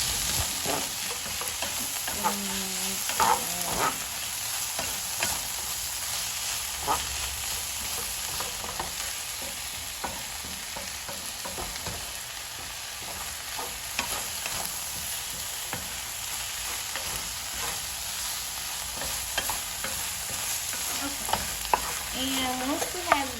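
Seasoned food sautés in a pan with a steady broadband sizzle, while a utensil stirs it in repeated scrapes and clinks. The cooking sounds are close and continuous, with no talking, for a chicken dish with creamy spinach and mushrooms.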